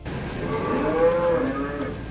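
A cow at a children's play area, Play Panda in Attapur, gives one drawn-out, fairly loud moo lasting about two seconds over a low background hum.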